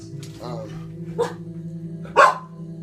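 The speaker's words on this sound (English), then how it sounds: "sorry if you can hear my dog in the background" Two sharp dog barks ring out about a second apart, over a steady low hum.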